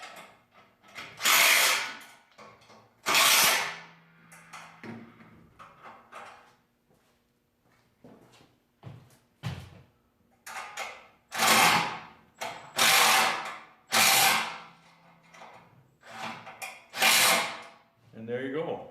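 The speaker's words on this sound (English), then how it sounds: "this is the one part where I actually do use a power tool" A power tool runs during assembly of a Victory Cross Country reverse trike, in about ten short, loud whirring bursts separated by brief pauses and quieter handling noises.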